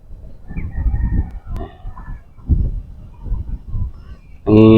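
A rooster crows near the end, a loud, close, drawn-out call breaking in after several seconds of someone talking outdoors by the sea.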